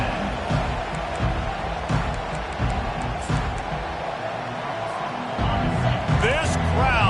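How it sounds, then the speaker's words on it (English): A football stadium crowd roars in a steady, dense wall of noise throughout, with a commentator talking over it. "This crowd, full throat, splitting the eardrums"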